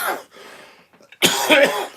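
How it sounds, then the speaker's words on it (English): A person coughs nearby, a short harsh cough, a brief pause, then a louder burst of coughing. "I haven't been coughing for days and now I'm coughing"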